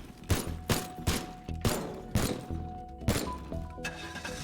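Gunfire in the Teardown video game knocking parts loose: a series of sharp, heavy shots roughly every half second, each with a crashing, thudding edge, over a steady low background hum.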